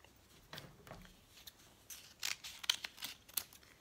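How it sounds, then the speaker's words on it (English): Scissors snip through kinesiology tape being cut to length for knee taping, a few quiet close crisp cuts and rustles in sequence. "Then you would cut the length of the tape."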